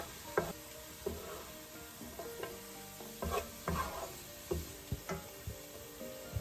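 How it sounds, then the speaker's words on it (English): Green peas and fenugreek (methi) leaves roast in a pan, giving a soft continuous sizzle broken by irregular stirring clatters and scrapes of the spoon. "now same time we are going to roast it with our green peas"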